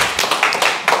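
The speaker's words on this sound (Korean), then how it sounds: "박수 한번 쳐줘요" A brief burst of hand clapping from an audience during a talk on waste reduction, a few distinct claps close and fairly loud.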